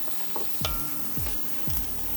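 Cinnamon sticks drop one after another into a pan of onions frying for butternut squash soup, with three close, distinct thuds and crackles over a steady sizzle.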